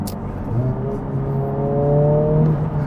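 A 2024 Honda Civic Type R engine revs up, a close, loud rising drone with a climbing tone held for several seconds, no voices over it.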